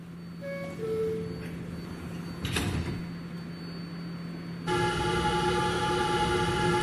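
Subway train doors on a Q train in a video game slide shut, with a creaking mechanical sweep at the midpoint followed by a steady tonal chime or hum from the car, all over a low constant motor drone.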